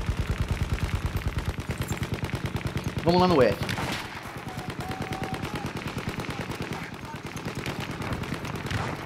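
Sustained rapid-fire shooting from the Battlefield 1 beta on Xbox One rattles on in quick, even bursts, loud and close, briefly broken by someone speaking before the automatic fire resumes.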